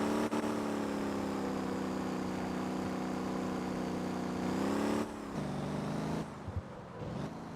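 A strong, high-powered car engine in the driving game Motor Town holds a steady high-revving drone that shifts pitch near the end, fairly quiet and with no talk.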